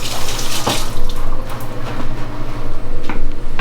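Water runs from a kitchen tap while raw egg is rinsed off hands, a close, steady splashing stream with a few sharper splatters and no talking.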